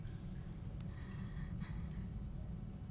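Gregory breathes in fear in Five Nights at Freddy's: Security Breach, quiet snorting and gasping breaths rising over a low rumbling game ambience, with a sharper intake around the middle.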